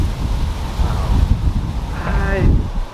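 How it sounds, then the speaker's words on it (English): Outdoor wind rumbles and buffets against the microphone throughout, a steady low roar that swells slightly near the end. "Got the wind picking up here."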